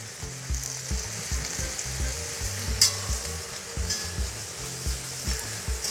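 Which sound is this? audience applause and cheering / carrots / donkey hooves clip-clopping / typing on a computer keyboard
carrots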